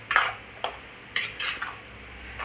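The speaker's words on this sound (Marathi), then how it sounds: "मिक्स करून घेऊया वाटप।" A metal spoon stirs ground masala paste for Malvani mutton in a pot, giving a few sharp clinks and scrapes against the pot with short pauses between them.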